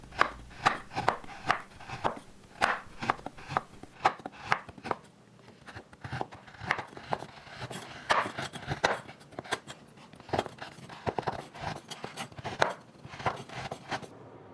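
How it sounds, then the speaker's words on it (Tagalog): A knife scrapes a chocolate bar in quick repeated strokes, close and fairly quiet. The scrapes come in an uneven rhythm, roughly two per second, with short pauses between runs. "kakaskasin muna natin yung ating chocolate bar gamit yung ating kutsilyo"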